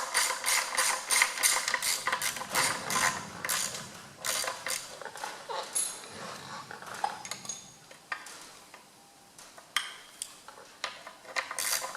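A 1/2 inch ratchet works on the timing gear fasteners of a Massey Ferguson MF135 tractor, giving rapid bursts of close metallic clicking with pauses and small clanks of tools and parts.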